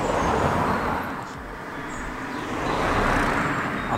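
Road traffic streams past a railside photography spot in the UK as a continuous rumbling wash of passing vehicles, swelling at the start, dipping briefly, then rising again as another vehicle goes by, with no talking.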